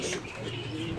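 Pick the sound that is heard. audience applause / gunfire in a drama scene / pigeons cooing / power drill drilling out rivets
pigeons cooing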